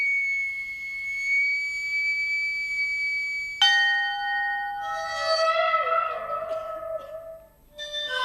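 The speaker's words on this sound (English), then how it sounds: "And a ship's bell way underneath the ocean." A bright bell-like tone rings out and lingers, then a deeper resonant ship's bell strike underwater blooms with wavering, watery overtones that slowly fade, eerie and echoing, from a 1991 BBC2 ident.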